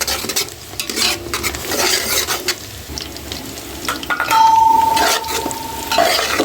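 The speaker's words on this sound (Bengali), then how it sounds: "কয়েকটা কাঁচামরিচ দিয়ে দিলাম পেঁয়াজের সাথে এগুলো একটু সব কিছু বেজে নিতেছি" Onions and green chillies fry in hot oil while a utensil stirs and scrapes the pan, a steady sizzle with clattering strokes and a brief high tone near the end.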